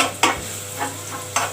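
Garlic sautéing in cooking oil in a pan, a soft continuous sizzle broken by a few short scraping stirs, close and moderately loud with no talking.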